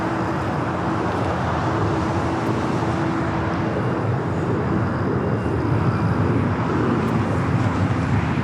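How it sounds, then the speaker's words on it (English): A United Boeing 787-10 Dreamliner lands on the north side at Los Angeles LAX, giving a steady, broad roar of jet engines that holds at a constant level throughout with no voices. "United 787-10 Dreamliner landing on the north side."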